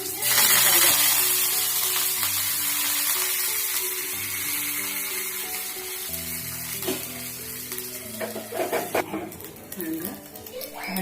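Two dried red chillies crackle as they fry in hot oil, a sizzle that fades slightly before sharp popping spatters build near the end, with a voice talking over it.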